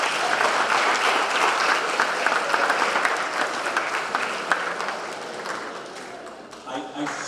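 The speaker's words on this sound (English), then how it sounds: "Give yourselves a round of applause." A large crowd at a high school debate event applauds loudly and steadily, dense clapping filling the whole stretch and tapering slightly toward the end.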